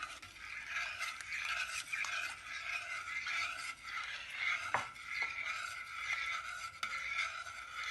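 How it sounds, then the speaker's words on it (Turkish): Slow stirring of Turkish sour meatball soup in a pot while liquid is poured in, a steady soft scraping and swirling sound that runs throughout at moderate level, with no talking. "Yavaş yavaş karıştırarak döküyorum."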